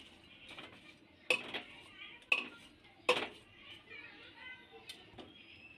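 Lentils with salt and turmeric stirred in a pot of water for pumpkin-stalk dal, producing a few sharp metallic spoon clanks against the pot, with soft scraping between them and a voice talking underneath.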